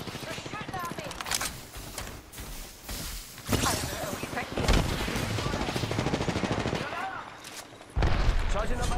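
Loud video game gunfire crackles in rapid automatic bursts and heavier booms, continuous and close, with players talking over the shooting.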